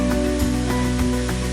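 A waterfall in the Southern Highlands roars as a dense, constant wash of falling water, loud and unbroken, with no voices over it.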